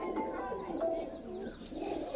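Soft cooing murmurs of a male Naptha pigeon close by, a few low warbling calls with scattered faint chirps behind them.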